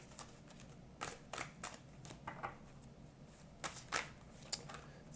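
A deck of cards is cut and handled in a quiet room, with several short, crisp riffling bursts and soft paper slaps spread unevenly over a few seconds.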